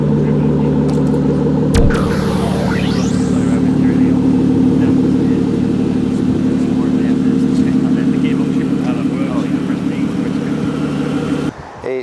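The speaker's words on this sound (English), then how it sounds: "The heart of the car for 15 model year Vanquish is our AM29 naturally aspirated V12 6-litre engine." Aston Martin V12 Vanquish, 2015 model year, with its AM29 naturally aspirated 6-litre V12 engine, running in a steady, loud idle-like drone throughout, heard on its own without talk.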